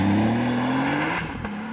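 Porsche 911 Turbo S hybrid accelerating hard, engine note climbing steadily in pitch and loud and close, then an upshift break near the end.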